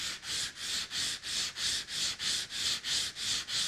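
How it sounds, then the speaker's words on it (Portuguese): Sandpaper rubbed back and forth on MDF board, a close rhythmic rasping in even strokes about three per second, each swelling and fading, with nothing else heard. "a gente lixou a parte maior e vai passar lixa também nessa parte"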